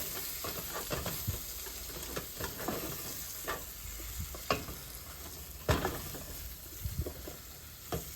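Herbs, chives and Italian seasoning are stirred and tossed in a hot pan, giving a soft continuous sizzle broken by scraping and clattering strokes, close but fairly quiet, with no talking.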